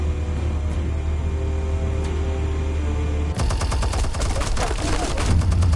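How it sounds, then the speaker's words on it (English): Explosives detonate in the Batman Telltale Series video game, a sudden loud blast followed by a rapid rattling burst of repeated crackling bangs, after a steady background hum. "Explosives armed. Fire when ready."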